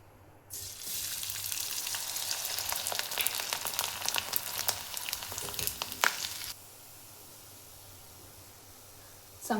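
Wheat kurdaya drop into hot oil and fry with a loud, bubbling sizzle for about six seconds, then the sizzle cuts to a faint background hiss, with a brief burst returning at the very end.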